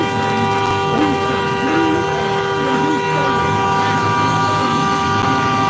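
Loud, sustained horn blaring from vehicles stuck in a traffic jam at a protest outside the Indiana Governor's Mansion, steady droning tones layered over a constant rumble of traffic.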